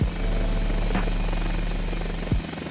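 A Mini 500 helicopter in Microsoft Flight Simulator VR hums steadily, a loud droning rotor and engine tone with a low rumble, with no voices.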